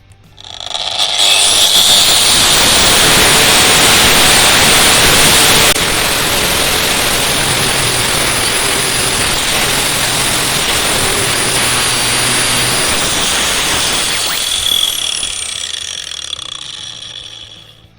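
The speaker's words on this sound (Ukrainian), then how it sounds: "А зараз я буду шліфувати лепестковим кругом е, ось таку іржаву запчастину." An Intertool WT-0236 angle grinder with a flap disc whines and rasps loudly and continuously against a rusty metal part, spinning up, grinding steadily for over ten seconds, then winding down.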